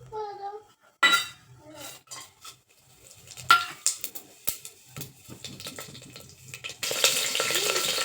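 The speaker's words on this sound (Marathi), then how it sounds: "खडा मसाला टाकला मिरच्या टाकल्या आणि असं परतून घ्यायचं चांगलं त्याला" Whole spices and green chillies sizzle in hot oil inside a pressure cooker on a gas stove, with a spoon clinking and scraping the pot in scattered strokes and a louder burst of frying toward the end.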